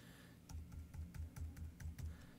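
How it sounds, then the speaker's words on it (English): Keys clacking on a computer keyboard in quick, light, irregular strokes, faint and close, with no talking. "hit Enter on the keyboard"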